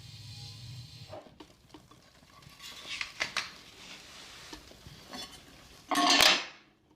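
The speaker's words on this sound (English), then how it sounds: "the main thing is to wash the dishes." Dishes are washed with warm water in a rough, half-repaired rural Ukrainian house: plates and cutlery clink and scrape close by, with a brief splash of running water early and a loud clattering burst near the end.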